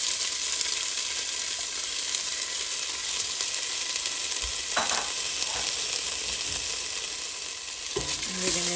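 Broken-up rice goes into a hot pot of Guyanese sweet rice, bringing a steady loud sizzle with a few stirring scrapes and knocks near the middle and end.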